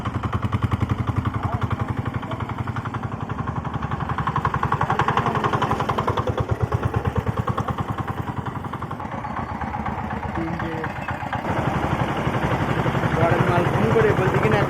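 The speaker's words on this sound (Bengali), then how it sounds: "এগুলো হচ্ছে ইঞ্জিন ভ্যান।" A motorised rickshaw van engine putters nearby in a rapid, steady chugging rhythm, with a voice talking over it throughout.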